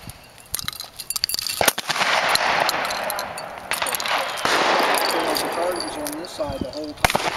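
Shotgun shots at clay targets outdoors, several sharp bangs spread through the clip amid wind noise and movement, with people talking around them.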